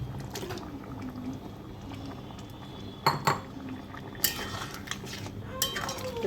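Fried prawns go into a pan of simmering curry with a light turmeric seasoning and are stirred with metal utensils, giving soft scraping and a few sharp clinks against the pan over a low bubbling background, with no talking.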